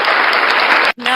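An audience at the Face of ALIAC 2020 pageant applauds the Miss first runner-up, a loud, close burst of clapping that cuts out briefly before resuming.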